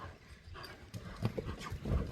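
Horse hooves clip-clopping over soft ground, a quick uneven rhythm of muffled thuds passing close by, with faint outdoor background and no voices.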